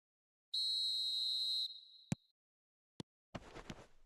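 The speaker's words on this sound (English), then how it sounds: "There's the whistle, and here we go." A referee's whistle starts kick-off in a FIFA football game: one long shrill blast, then a sharp click, another brief tick and a short burst of crowd or commentary noise.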